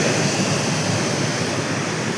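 Karanji waterfall on the Damanganga river near Ekdare in Nashik district, water rushing into a pool below as a steady, loud, broadband roar with no voices.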